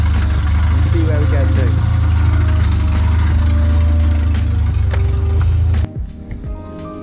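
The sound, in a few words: car engine idling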